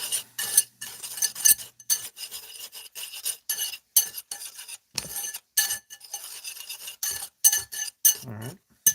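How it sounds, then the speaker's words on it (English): Blueberry æbleskiver batter whisked briskly in a bowl, making rapid scraping, swishing strokes in short bursts separated by brief pauses, close and clear with no talking. "We are just going to whisk these up."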